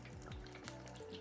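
Battered cod frying in hot oil, a steady soft sizzle with faint crackles throughout a brief, quiet moment, with no voices.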